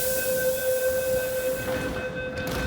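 A train departs Po Lam Station, a sustained tonal whine from the motors holding steady over low rumbling, close and fairly loud, with the pitch shifting slightly near the end.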